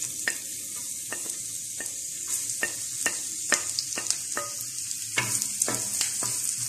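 Onions frying in hot oil on a tawa, a steady bright sizzle broken by repeated sharp crackles and scraping stirs, close and continuous with no talking.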